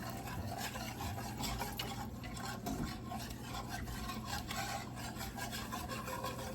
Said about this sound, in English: Get it all nice and whisked together.